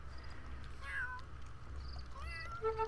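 A cat in the video game The Sims 3 gives a few short meows and a rising trill, moderately close over a quiet game background hum; no one talks.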